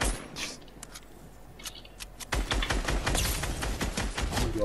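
Grenades burst in a Fortnite match, with a scatter of sharp pops giving way to a denser rumbling barrage of blasts and crackle that builds up midway and continues, moderately loud with no talk over it.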